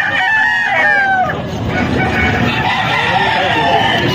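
Roosters among chickens offered by a seller crow near and loud at the start, then fade into a busy background of murmuring voices and faint clucking.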